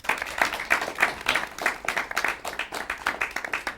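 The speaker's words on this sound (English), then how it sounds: "Round of applause for that dress." A small audience claps for a dress at a fashion show, a modest, fairly quiet round of rhythmic hand claps in quick regular beats that carries on steadily for a few seconds.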